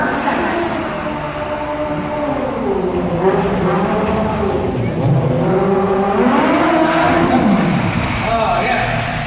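A stunt hero car drives out onto the set at a Disney World car stunt show, engine revving and rising and falling in pitch over a loud crowd and announcer voice.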